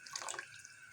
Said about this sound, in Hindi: जितना मुझे रिक्वायर्ड पानी होगा वो मैं डालूँगी